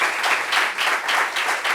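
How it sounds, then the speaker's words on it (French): An audience at a gathering gives a short burst of loud, close applause, many hands clapping in a dense, pulsing rhythm with no voices. "Et ça, applaudissements pour ça."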